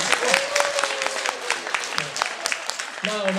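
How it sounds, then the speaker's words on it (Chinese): An audience at a retreat talent contest breaks into a short burst of close, crisp applause, with a voice heard over the clapping. "掌声鼓励。"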